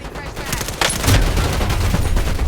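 Loud, dense gunfire from a Call of Duty Black Ops 7 Warzone match, continuous rattling bursts with heavy low thumps throughout.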